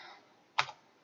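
A single sharp Enter key press on a computer keyboard, one brief close click in a quiet room with no other sound.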